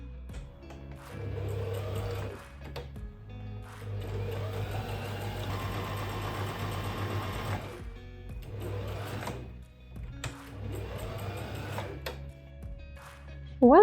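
A sewing machine stitches a pocket on a leather trench coat in several separate runs of a few seconds each, a mid-pitched mechanical whir that starts and stops with brief pauses between.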